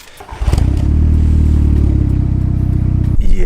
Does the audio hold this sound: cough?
no